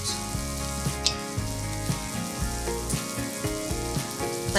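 Butter and a little olive oil sizzle steadily in a heating skillet, a continuous close crackle with music playing over it and no talking.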